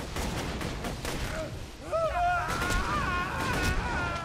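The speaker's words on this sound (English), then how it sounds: "Yep, the clues explode." Clues exploding in the video game Borderlands 2, heard as bursts of game gunfire and blasts with whirring electronic tones, mixed with speech and game effects.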